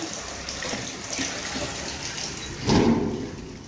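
Steady running water flows throughout, swelling louder near the end as it splashes down, with no voices.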